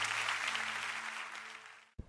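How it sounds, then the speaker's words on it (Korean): Church congregation applauding, a dense burst of clapping that fades over about two seconds and cuts off, fairly faint. "영광의 박수 올려드리십시다"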